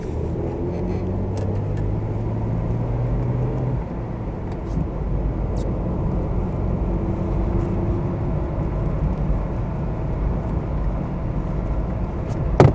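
Ford Capri 2.8 Injection cruising on the road, its steady low engine drone and road rumble continuous from inside the cabin, with a few faint rattles over the top.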